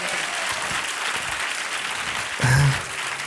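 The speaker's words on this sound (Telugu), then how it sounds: "కొట్టు ఇక చప్పట్లు గట్టిగా" A congregation claps loudly and steadily at a Sunday church service, a dense wash of applause that swells briefly near the end.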